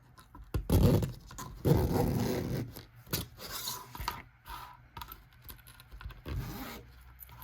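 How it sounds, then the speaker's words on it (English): A zipper pull is slid along zipper tape in a zipper jig while sewing a book sleeve, giving close, quiet rasping scrapes in irregular bursts with short pauses between. "that's how you put your zipper on with that zipper jig"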